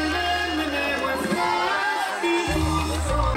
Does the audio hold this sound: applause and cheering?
yes